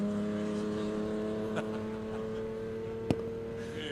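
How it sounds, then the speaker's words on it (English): A Datsun 240Z six-cylinder engine drones steadily at race pace at the Rob Roy Revival, a sustained even mechanical hum with a sharp click near the end. "the unmistakable sound of that 6-cylinder motor"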